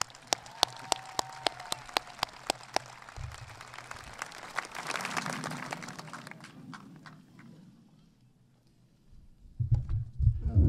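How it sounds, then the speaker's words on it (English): At a 2022 high school graduation ceremony, a few sharp isolated claps open, then a swell of clapping and crowd noise builds and fades, with a louder burst of sound at the end. "Round of applause, please."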